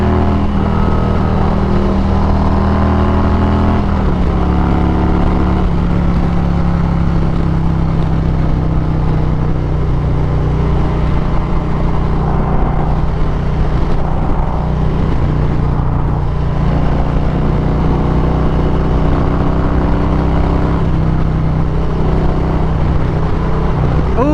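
A motorcycle with an exhaust drones loudly and continuously along a highway through a tunnel in downtown Phoenix, its engine note holding steady with a pitch shift early on, heard up close from the rider's position.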